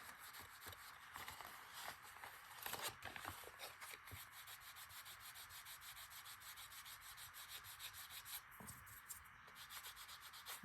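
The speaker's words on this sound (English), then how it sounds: "Just give it a little rub down" A wet fabric patch is rubbed down onto a garment while repairing pockets, making faint, continuous scratchy rubbing strokes at close range, with a few louder scrapes along the way.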